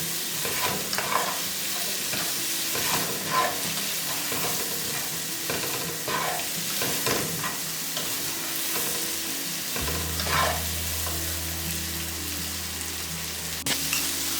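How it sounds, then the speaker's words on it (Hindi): Vegetables for Manchurian stir-fried fast in an uncovered pan, hissing with a steady sizzle while utensil scrapes and stirs come through; a low hum joins partway through. "मंचूरियन बनाने के लिए हम सबसे पहले ये वेजिटेबल जल्दी जल्दी फ्राई करेंगे।"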